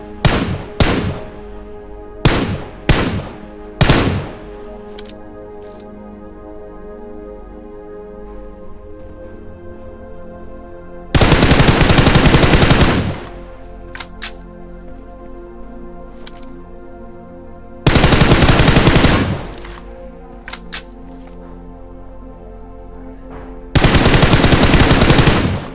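Bursts of automatic gunfire from a squad shooter game on a military base map: several short separate bursts, then three long sustained volleys with quiet gaps between them, loud and close.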